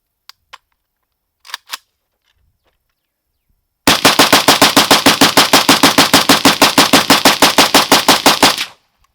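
An AKM rifle with a Krebs Custom UFM rail empties a full magazine: a few faint clicks, then a long, rapid, loud string of evenly spaced shots that stops abruptly.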